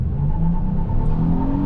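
A 2021 Honda Odyssey minivan pulls away hard from a stop, its engine roaring in a steady, loud, close rumble that holds throughout with no voices.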